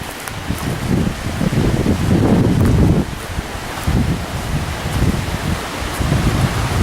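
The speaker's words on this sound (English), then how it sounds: "Sorry about the wind." Gusts of wind buffet the microphone with loud, low rumbling bursts that rise and fall over several seconds.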